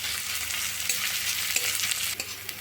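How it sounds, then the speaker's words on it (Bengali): Chopped onion sizzles in hot mustard oil while being stirred, a steady bright frying hiss broken by soft scraping knocks of the spoon. "পেঁয়াজটা একটু তেলে নাড়াচাড়া করে নেব।"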